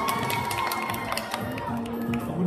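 Fans at a meet-and-greet event in Udon Thani cheer and applaud for three actors, a steady crowd roar with scattered claps and shouts swelling toward the end.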